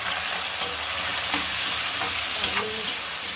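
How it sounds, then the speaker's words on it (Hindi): Potatoes hit a hot pan of frying cumin and chilli, giving a loud, continuous sizzle with occasional stirring scrapes and crackles, and no voices. "और आलू को भी डाल देते हैं।"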